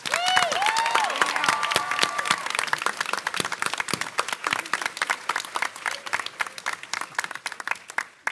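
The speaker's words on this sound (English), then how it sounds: "Let's give them a round of applause." An audience at a convention panel applauds parents in the crowd, with dense, sustained clapping and a few brief whoops near the start, carrying steadily before thinning slightly at the end.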